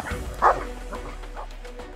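A trained detection dog that searches for hidden people gives a few short barks and yips, close and moderately loud, over light background noise.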